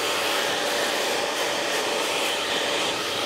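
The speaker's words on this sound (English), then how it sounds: "I'm going to start drying this in small sections." A hair dryer blowing on hair during a pompadour haircut: a loud, continuous, even roar held close for the whole stretch, with no talking.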